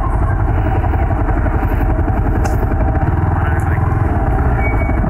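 Yamaha R15 V3 motorcycle engine running during an off-road river crossing in Bandarban, a steady, loud mid-pitched drone with some clatter, continuous throughout with no pauses.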